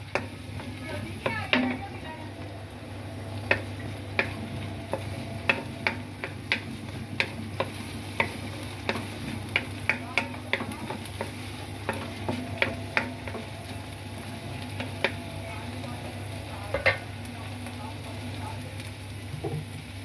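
Garlic butter shrimp and crab cooking in a pan, a steady low sizzle with frequent sharp ticks and pops from utensil stirring, close up and fairly busy throughout, with no talk.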